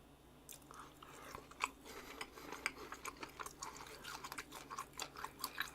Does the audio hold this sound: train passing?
no